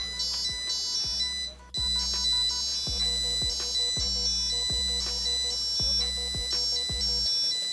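An Arduino phone detector device sounds a high electronic beeping tone continuously as a mobile phone is tossed, dropping out briefly once before resuming, over a repeating low thumping pulse.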